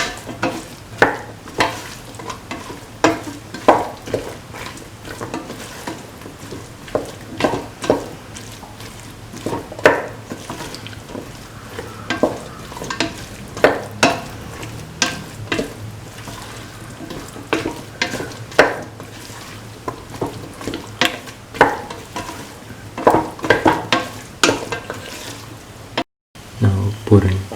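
Cauliflower, bottle gourd and green chilies stir-fried in a pan, a steady sizzle of frying broken by repeated scraping stirs of a spoon against the pan, close and moderately loud, with a voice speaking over parts of it.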